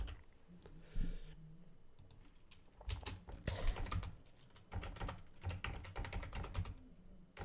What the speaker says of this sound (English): Sorry about my sucky keyboard.